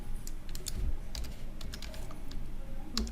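Someone types a command on a computer keyboard to set up a Raspberry Pi, with quick clicky keystrokes in an uneven rhythm, close and clear, and no voice over them.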